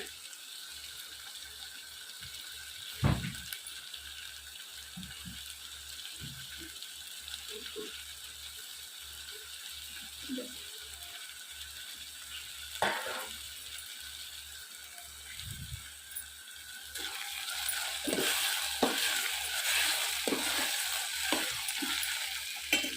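Ginger garlic paste frying in a pan on low heat for a boondi curry, a faint steady sizzle broken by occasional scrapes and taps, swelling louder toward the end.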